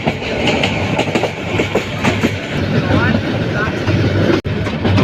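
A long mail train rolls past Ghorashal station in Bangladesh, its wheels beating out a steady clickety-clack over loud rumbling, with a brief dropout near the end and a voice talking over the passing train.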